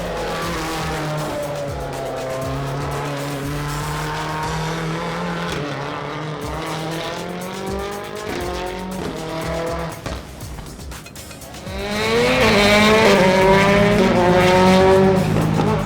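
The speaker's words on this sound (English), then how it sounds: "the roars from the engines" Ford Fiesta rallycross supercar engines roar loudly on a Red Bull Global Rallycross track at Bushy Park, Barbados, revving up and down steadily with tire noise, then surging louder near the end as a car closes in.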